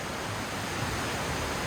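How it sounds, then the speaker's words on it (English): River water flowing through the Goyt Valley on an autumn evening, a soft, even wash of noise heard faintly from a distance, with no voices. "the sound of the river"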